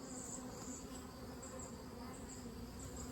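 Honey bees buzz in a dense, continuous swarm drone around a 24-frame Layens horizontal hive during a late-summer inspection. The buzzing is loud, close and steady, with no voices.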